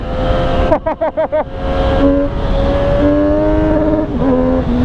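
A Triumph Street Triple RS 765 motorcycle engine revs hard, with a burst of quick throttle blips followed by a loud, sustained high-rpm drone and rising pitch, heard close up.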